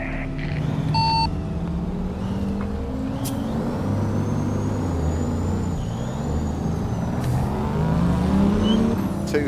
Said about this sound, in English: Axe is driving a two-stroke Freightliner. It sounds so good.